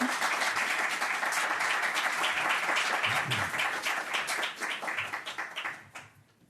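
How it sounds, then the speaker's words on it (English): A room of listeners applauds a panel at a University of Missouri–St. Louis event remembering Mill Creek Valley, a thick wash of clapping that stays strong, then thins into scattered claps and fades out near the end. "Give them a round of applause, if you will."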